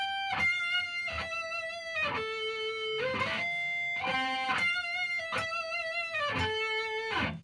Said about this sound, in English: The verse is this this weird high stuff up on the neck, and it sounds like this.